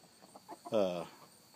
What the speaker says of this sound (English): I have this little rooster got in here by himself.